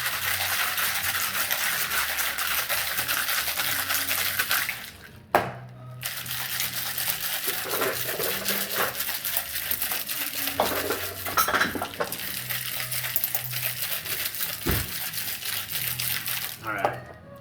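Ice and muddled pineapple rattle and slosh inside a cocktail shaker in steady vigorous shaking, loud and close, with brief pauses and a hard knock near the end.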